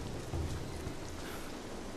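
Video game rain in Rise of the Tomb Raider: steady, dense rain hisses continuously, with a low rumble beneath and no voices.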